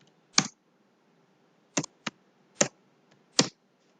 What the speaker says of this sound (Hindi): यहाँ पे मैं कीबोर्ड से टाइप करके मैंने एडिशनली कुछ लिख लिया